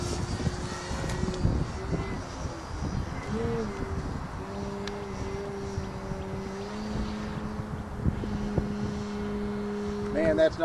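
A 72-inch Extra 330SC radio-controlled model airplane flying in gusty wind, its engine giving a steady droning whine that rises and falls in pitch, with people talking over it.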